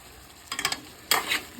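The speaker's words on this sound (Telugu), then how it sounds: "మటన్లో నుంచి ఆవిరి వచ్చేస్తుంది అన్నమాట." Mutton curry sizzles in a pan while a spoon stirs it in two short scraping strokes, loud and close, over a steady frying hiss.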